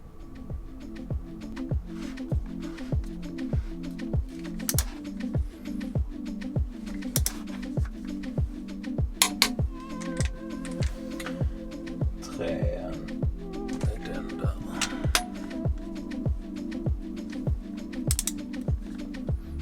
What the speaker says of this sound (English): When you reach the set torque value, the wrench makes a click.